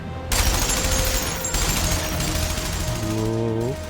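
A handheld ballista fires 7.62mm rounds in the Tsukihime video game. A loud, dense, unbroken burst of rapid gunfire runs for several seconds, and a rising mechanical whine and whir of the weapon come in near the end.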